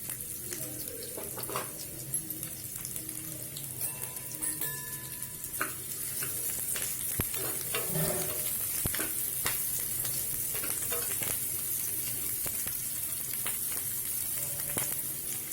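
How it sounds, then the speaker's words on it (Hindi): A large onion frying in hot oil in a pan for an egg curry, giving a steady broadband sizzle throughout with occasional scrapes and clinks of stirring, fairly close and continuous, with no talking. "तेल हमारा गर्म हो चुका है, इसमें मैं एक बड़ा प्याज डाल दूँ।"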